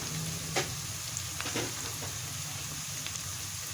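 Cumin seeds and a few black peppercorns frying in hot oil for daal maash, a steady close sizzle with occasional crackles and pops, alone without talk.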